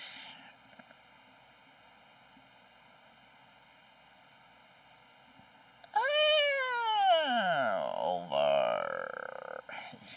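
A cat lets out one long, loud, drawn-out meow that rises and then slides down in pitch, close by, after several seconds of quiet room tone.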